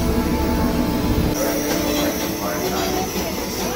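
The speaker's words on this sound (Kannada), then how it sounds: "ಇಲ್ಲಿರುವ ಸ್ಟೀಮ್ ಇಂಜಿನ್ ಟಾಯ್ ಟ್ರೈನ್ನ ಮಜಾ ತೊಗೊಳಕ್ಕೆ ಇವಾಗ ನಾವು ಬಂದೀವಿ" Steam-engine toy train on the Darjeeling hill railway, heard as a steady close rumble of rolling carriages and track noise throughout, with a faint high whine above and no talk.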